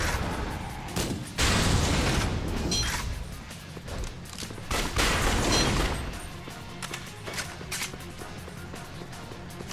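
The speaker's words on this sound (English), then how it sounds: "Get out the grenade launcher, shoot this barricade" In the video game Yakuza: Dead Souls, a grenade launcher fires at a barricade, producing loud, close booms and crashing blasts that swell and fade over several seconds, with scattered lighter shots and debris clatter between them.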